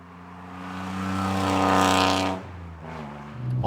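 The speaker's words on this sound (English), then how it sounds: "The most obvious bit is that rather loud exhaust" A loud, deep exhaust from an Alfa Romeo 155 V6 drones and builds in a rich rumble, then drops off briefly before rising again nearby.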